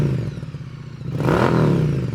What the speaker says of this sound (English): The Vance & Hines pipe sounds fantastic